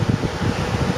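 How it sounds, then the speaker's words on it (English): An extraction fan runs during a scrap gold refining job, clearing sulfur dioxide fumes, with a steady close whooshing hum and faint pulsing rhythm throughout the brief moment. "please excuse the fan noise"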